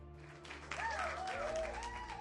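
A subdued crowd gives scattered, thin applause at a noble lady's introduction in a fantasy drama. The clapping is quiet and swells slightly, with sustained tonal sounds above it.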